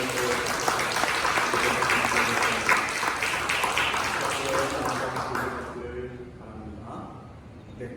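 Congregation applauds during a Sunday church service, dense clapping sustained for several seconds before fading out, with some voices mixed in.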